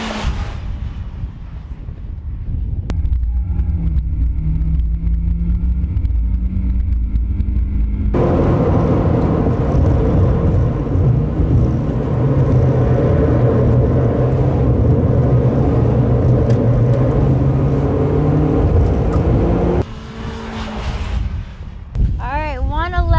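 Compact SUV family car driven flat out on a race track, a steady loud engine and wind roar building and holding at speed, with a brief drop in level near the end.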